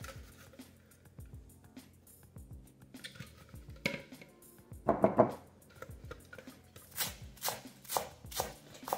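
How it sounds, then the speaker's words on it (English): Knife chopping fresh cilantro leaves on a cutting board for pico de gallo, a run of close, crisp taps with a louder burst of rapid strikes partway through and quieter gaps between. "I just like to chop it up and add as well."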